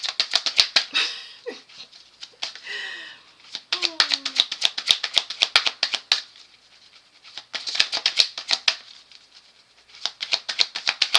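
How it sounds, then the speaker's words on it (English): Tarot cards shuffled by hand over and over in bursts of dense riffling clicks, close and fairly loud, with brief pauses between rounds and a few quiet vocal sounds in the gaps. "I shuffle these cards till my arms fall off."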